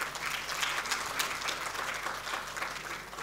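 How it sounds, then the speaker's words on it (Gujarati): A crowd applauds a Garba dance group at a public Lokmanthan gathering in Karnavati, with steady, full clapping from many hands filling the hall without a break. "આપણે સૌ તાળીઓથી તેમને વધાવીએ."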